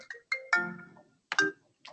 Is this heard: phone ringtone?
yes